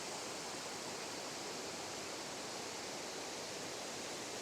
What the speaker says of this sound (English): one of my favorite waterfalls